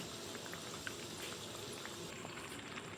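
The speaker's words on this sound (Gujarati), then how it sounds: "હવે મીડિયમ ગેસ ઉપર હું એક બાજુ ગોલ્ડન બ્રાઉન થવા દઈશ।" Onion kachori frying in oil over a medium gas flame makes a soft, steady bubbling hiss with faint scattered pops. The sizzle stays even and fairly quiet, with no voices.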